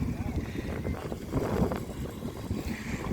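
A passenger ferry boat crossing the river between Ottanur and Kottaiyur gives a steady, rough rumble with wind buffeting the microphone and muffled voices underneath.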